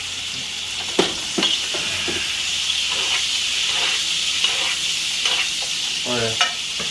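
Food fries in oil in a pan with a steady bright sizzle and hiss, broken by scattered sharp crackles and scraping stirs, close and continuous with no talk.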